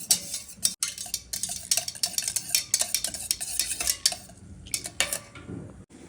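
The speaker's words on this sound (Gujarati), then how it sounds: "આપણે અહીંયા ખાટી છાશ લઈ અને એમાં થોડું બેસન ઉમેરીશું અને પછી એને મિક્સ કરી લઈશું" Sour buttermilk and gram flour are whisked together in a bowl for Gujarati kadhi, producing quick, close, irregular clinks and sloshing scrapes of a utensil against the vessel, with no talking.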